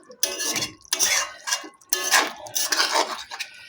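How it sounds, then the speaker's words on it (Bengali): A spoon stirs a pickle-style flat-bean curry with coriander leaves in a pan, making several bursts of scraping and clinking with short pauses between them, close and fairly loud. "ভালো করে মিশিয়ে নিচ্ছি ধনেপাতাটা দিয়ে"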